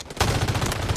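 Gunfire in the video game Delta Force on a coastal map, a loud rapid burst of repeated shots fired in quick succession across the whole second.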